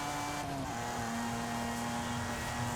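Race car engine in Forza Horizon 5 driving at speed, a continuous loud roar with a brief pitch drop around a gear change, no one talking.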